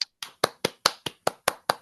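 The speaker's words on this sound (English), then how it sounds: "Let's give everybody a round of applause" Steady, evenly spaced claps ring out at a brisk rhythm, about eight in under two seconds, as participants applaud at the close of a virtual demo day.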